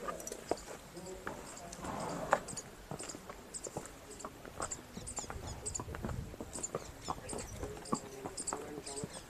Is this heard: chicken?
no